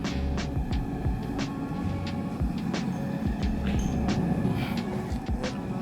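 Steady humming drone of a forge or heat-treating oven cranked up in a bladesmithing shop for mosaic Damascus work, with faint repeated knocks and clicks over the continuous throb.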